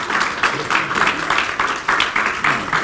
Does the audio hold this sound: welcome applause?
yes